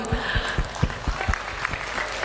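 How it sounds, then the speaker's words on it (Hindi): Hands clapping in applause at a night gathering of a Hindu unity padyatra (march), a quick, even run of sharp claps at moderate distance with no talk over it. "मैं ताली मारती हूँ।"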